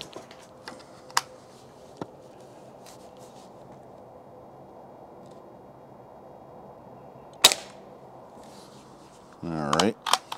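An Umarex Ruger NXG multi-pump air rifle fires at a 10-yard target. Light clicks and handling noises come first, then one sharp, short report, followed by a rising mechanical rasp near the end.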